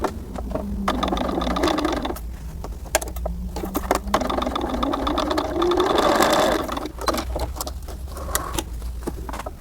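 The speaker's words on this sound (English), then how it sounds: "we are going to top stitch next to that seam line all the way down" A sewing machine top stitches down a seam on small denim doll clothing, running in a steady continuous whir at close range with a few brief pauses and changes in speed.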